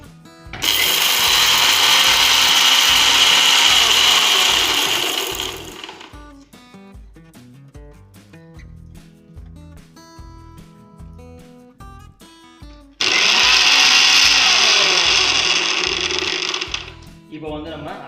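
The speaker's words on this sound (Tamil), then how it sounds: "இதுவும் லைட்டாக மிக்சியில் ஒரு சுத்த விட்டுறலாம்" An electric mixer grinder whirs loudly while grinding hibiscus leaves, running in two bursts of several seconds each with a quieter stretch of background music in between.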